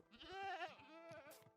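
A single goat bleats in Minecraft 1.17, a short, wavering, nasal cry from a game animal that breaks into a couple of quick catches at the end.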